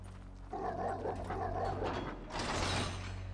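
A dog in the video game GTA 5 barks and yips in short bursts, moderately loud, with a mechanical rattle at the end and no talking.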